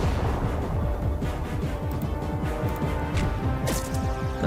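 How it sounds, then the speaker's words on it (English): A portal cannon fires in the space strategy game Halcyon 6 Starbase Commander, giving a rapid stream of punchy sci-fi blasts and crashes over a steady loud hum, with a brighter burst near the end. "I'm going to try to finish it with portal cannon"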